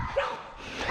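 A big Presa Canario mix dog gives a couple of short, yipping barks close by, with a brief whine between them and some faint voice in the background.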